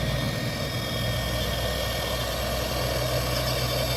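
The motor of a Traxxas TRX4 RC crawler truck runs continuously with a steady, buzzing whine and low hum, close by and without speech.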